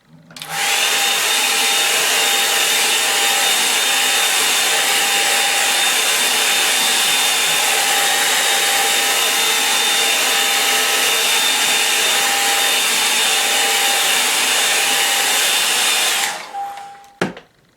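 A hair dryer blows steadily on a watercolour painting of a dry stone wall on the moors, a loud continuous whirring roar with a faint whine that runs for about sixteen seconds before clicking off.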